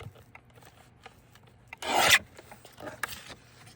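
Paper is trimmed from recycled book pages. One short, loud rasping cut is followed by a fainter brief scrape against quiet background rustling.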